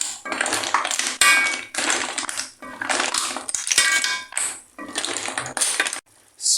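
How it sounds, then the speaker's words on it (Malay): Repeated metallic scraping and clinking of a utensil stirring fried pork and clams in a metal pan, loud and close, in steady bursts with brief pauses. "Mixing, kita adukkan merata, okay?"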